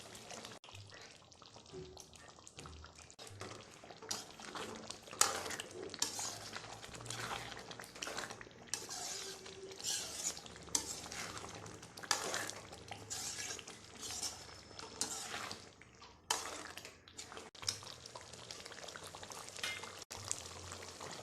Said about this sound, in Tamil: மூணு நிமிஷம் கழிச்சு எடுத்து வச்சிருக்கிற ஃப்ரெஷ் கிரீமை போட்டுக்கோங்க. நல்லா கிளறி விடுங்க.